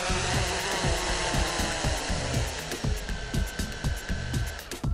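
An Autel Robotics X-Star quadcopter drone comes in to land. Its rotors give a loud, close, buzzing whir with a fast pulsing flutter and a thin whine on top, steady throughout.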